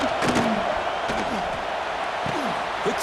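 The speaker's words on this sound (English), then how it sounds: "this home crowd is fired up and ready to make a difference today" Home football crowd roaring throughout a stadium during a South Carolina versus Alabama college game, a dense sustained wash of cheering with a commentator talking over it.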